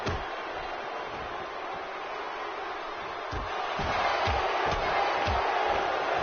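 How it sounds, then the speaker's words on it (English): A wrestling crowd at an East Coast Wrestling event chanting, a roaring mass of voices with rhythmic pulses of clapping or stomping growing louder toward the end. "The crowd now chanting fight forever."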